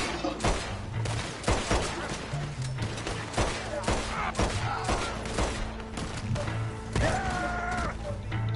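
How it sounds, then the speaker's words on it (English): Rapid bursts of gunfire in Red Dead Redemption on PS5, dense volleys of shots cracking one after another across the whole stretch, loud and close, with game music and effects underneath. "Who is that shooting at me?"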